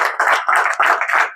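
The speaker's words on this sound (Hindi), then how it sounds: "जोरदार ताली बजा दीजिए इनके लिए" Students in a maths class clap together in a lively round of applause, several loud, dense bursts of hand claps rising and falling close by.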